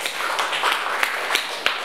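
A church congregation claps in praise, producing dense, continuous, fairly close applause with a few louder individual claps rising out of the wash.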